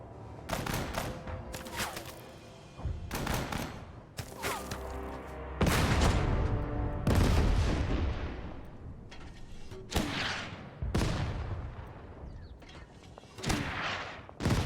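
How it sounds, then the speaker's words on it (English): Mortar and artillery fire in the Total Tank Generals WWII tactical video game, a run of heavy booming shots at uneven intervals, some close and loud with long rumbling tails, others fainter and farther off. "Two rounds with the mortar."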